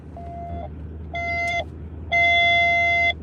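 A police scanner radio in Little Rock, Arkansas, sounds three alert tones before a dispatch, each longer and louder than the last, the final one about a second, over a low rumbling engine hum in a vehicle.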